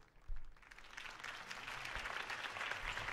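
Crowd applause in the Batman Telltale video game, a dense clapping swell that starts abruptly and builds steadily, heard alone without talk.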